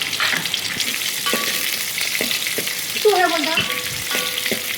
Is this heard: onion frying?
yes